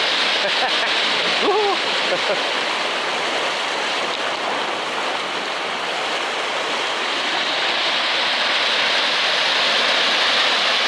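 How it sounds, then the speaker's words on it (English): A stream's running water fills the scene with a loud, steady, broadband rush along a riverside walk near Twyford in Hampshire, continuous throughout. "What is it about running water that's so relaxing?"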